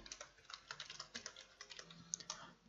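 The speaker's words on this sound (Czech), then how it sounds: "Ech napíšu Will" Rapid, irregular typing on a computer keyboard during an online game of Town of Salem, a steady stream of close, light key clicks with no talking.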